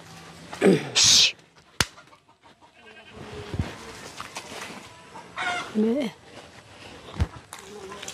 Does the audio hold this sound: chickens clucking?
yes